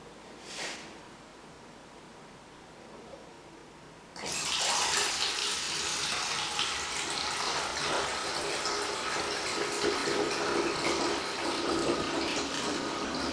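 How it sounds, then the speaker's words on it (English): Beer wort is poured into a fermenter for home brewing. After a few quiet seconds, a loud, steady rushing splash begins and continues unbroken to the end. "Just pour the beer in and pitch the yeast closed with an airlock"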